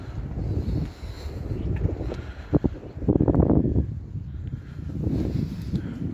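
Gusty wind buffets the microphone outdoors on an evening riverside embankment near a closed small market, producing a continuous low rumble that swells in bursts, with no talk.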